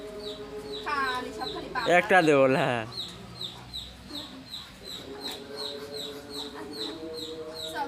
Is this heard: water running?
no